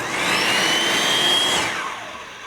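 A SIROCCO 8.5-inch dustless table saw with a built-in dust bag runs at full speed in a loud, high whine, then winds down as its brake slows the blade.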